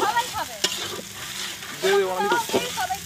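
Onions stir-fried in oil for a village chicken curry in West Bengal crackle and sizzle in uneven bursts as they are stirred, with voices talking over the cooking.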